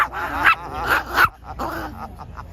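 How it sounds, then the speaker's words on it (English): A dog barks outdoors at a speedway convoy gathering, giving several loud, sharp barks and yips in a quick uneven series, with a short quieter whimpering stretch afterward. "Watch The Freedom Dog."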